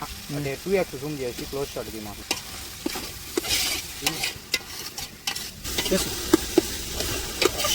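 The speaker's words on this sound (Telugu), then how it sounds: "ఆయిల్ వేసి ఆయిల్ వేడెక్కిన తర్వాత అందులో బిర్యానీ మసాలా, అలాగే ఆనియన్స్, తర్వాత వచ్చి అల్లం పేస్ట్, ఈ మూడు వేసుకొని పచ్చివాసన పోయేలాగా కాసేపు వాడ్చుకోండి." Biryani masala, onions and ginger paste fry in hot oil with a busy sizzle and repeated stirring scrapes, close up; a voice speaks briefly at the start over the cooking noise.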